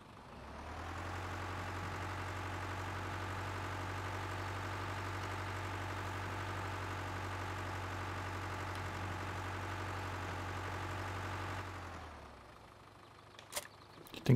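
Tractor engine idling in Farming Simulator 15, a steady, loud low-pitched rumble with even harmonic drone for about twelve seconds before cutting off, followed by a few faint clicks and no talk.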